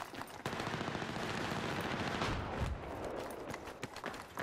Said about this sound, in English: I hear shooting close to us.